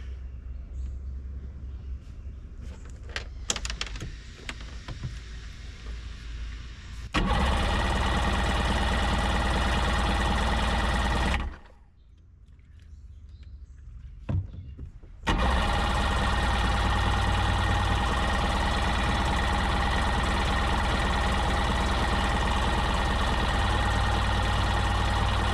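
An engine turns over and runs in loud sustained bursts, cutting out briefly before catching again, while someone tries to start an old free jet ski whose carburetor is still filling with fuel.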